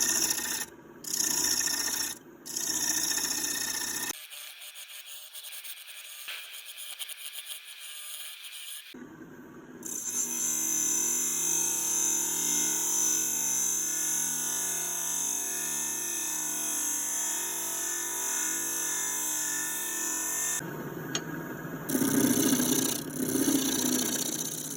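A skew chisel cuts into the top of a Big Leaf Maple bowl on a running lathe, a steady scraping rasp over the motor's hum, with brief pauses and a lull where the cutting stops.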